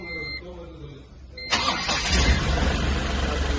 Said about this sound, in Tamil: வண்டி ஸ்டார்ட் பண்ணி பார்ப்போம்.